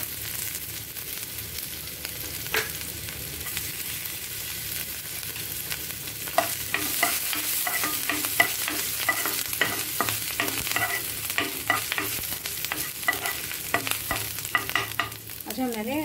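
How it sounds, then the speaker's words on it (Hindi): Fresh ginger and garlic sizzle steadily in a pan as a spoon stirs and scrapes, with repeated clinking strokes that grow busier partway through, close by and with no one speaking. "इसके बाद जाएगा जिंजर और गार्लिक, इसको रॉ स्मेल जाने तक हम पकाएंगे।"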